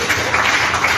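A church congregation applauding to acclaim the Lord, a dense, steady patter of many hands clapping together at close range for a short burst.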